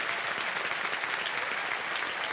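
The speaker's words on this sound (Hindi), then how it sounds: "बिल्कुल सही जवाब दिया, ताली बज जाए इनके लिए।" The studio audience of the KBC 2025 quiz show breaks into thick, even applause, a continuous wash of many hands clapping close by.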